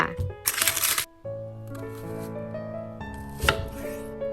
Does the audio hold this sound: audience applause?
no